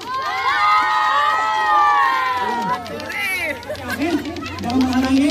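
An audience at a lato-lato competition final shouts and cheers loudly, children's excited high voices yelling over one another in a sustained burst, then breaking into scattered calls and chatter.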